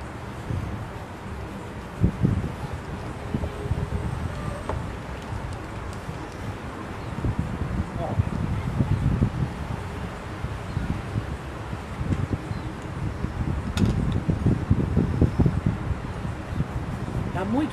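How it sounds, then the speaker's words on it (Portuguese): Wind blows outdoors on a hot day, a continuous low rushing and buffeting against the microphone, with rustling and occasional louder gusts under intermittent talking. "Tem muito vento"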